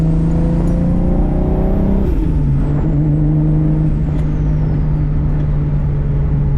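A tuned 600whp Lexus IS300 engine idles loudly and steadily, its droning hum dipping in pitch midway as it settles, with a continuous close, rough exhaust tone throughout and no talking.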